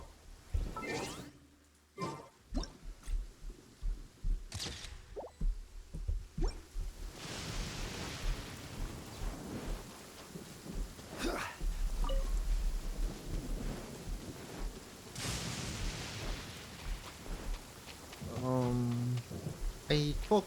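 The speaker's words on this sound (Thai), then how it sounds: "ฝนตกพอดี" Steady rain falls in the Genshin Impact game world, a continuous hiss with occasional drop-like taps, while people talk over it and game effects chime now and then.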